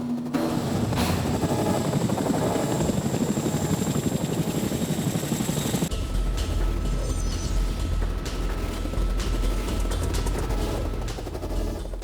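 A Royal Air Force Chinook twin-rotor helicopter flying, a loud continuous rotor drone with rapid low thumping that dominates throughout, shifting to a deeper rumble midway.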